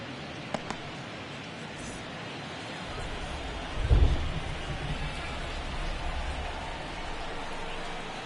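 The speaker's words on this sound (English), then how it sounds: "This rain is not letting up" Heavy rain falling at a Major League Baseball game between the Twins and Royals in Kansas City, a dense steady hiss with a brief louder low rumble midway, no voices.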